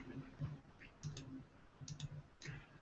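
Soft clicking keystrokes on a computer keyboard while entering a Google search, arriving in short irregular clusters of taps, quiet and close.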